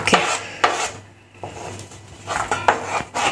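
Bhel puri ingredients are mixed in a bowl, giving close, repeated scraping and clinking with soft rubbing between strokes and no talk.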